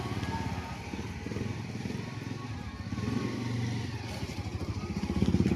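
A motorcycle carrying a couple rides along with its engine droning steadily and close up, the rumble swelling slightly toward the end, with no talking.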